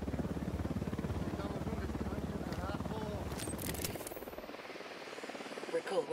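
In Ghost Recon Wildlands, a patrol helicopter's rotor thumps steadily and fairly close while people talk over it, then the engine noise cuts off abruptly, leaving near quiet with a few faint clicks.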